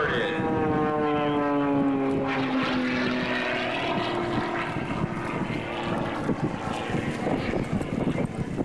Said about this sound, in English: For a number of gyroscopic precision maneuvers as he tumbles the airplane.